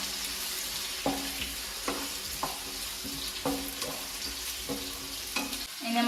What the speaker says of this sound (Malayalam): ഉള്ളി ഇട്ട് കൊടുത്തിട്ടുണ്ട്. ഇനി നമുക്കിതൊന്ന് വാട്ടി കൊടുക്കാം.